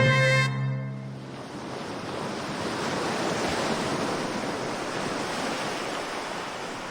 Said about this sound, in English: You can hear the pebbles and the shells all clattering together.